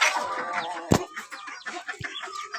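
A hen on a rooftop gives soft clucks and murmurs, close and fairly faint, with a couple of sharp taps or pecks in between.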